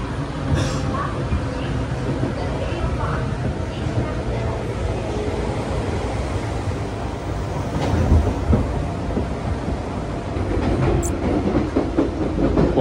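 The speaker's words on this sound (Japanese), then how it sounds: "列車もかなり軽快に走ってます" Steady rumble of a Seibu Tamagawa Line commuter train rolling along rails at up to 95 km/h, with clattering wheels and occasional squeals, heard from inside over a constant low roar.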